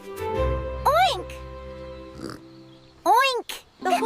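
A cartoon pig oinks in a children's animated show, a few rising-and-falling nasal squeals, the voice clearly performing the pig sound, with a low rumble underneath.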